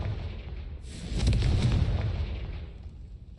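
A Confringo blasting spell explodes in Hogwarts Legacy, a single loud burst and boom that erupts suddenly and then rumbles and fades away over a couple of seconds.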